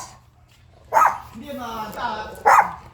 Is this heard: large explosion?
no